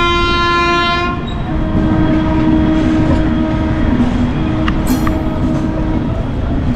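A loud train horn blasts for about a second at an Indian railway station, then the heavy rumble and rattle of rolling railcars carries on close by, with brief metallic clinks.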